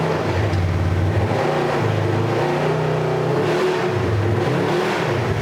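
Engine of a wrecked 2021 Polaris RZR 1000 revs loudly and close in repeated rising and falling surges while the machine drives, with wheels spinning in high gear.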